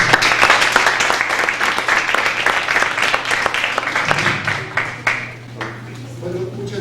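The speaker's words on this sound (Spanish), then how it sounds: "le pido un fuerte aplauso" A lecture audience at the Universidad de Guanajuato applauds the speaker, a loud, dense patter of many hands that thins and fades toward the end, with a low steady hum underneath.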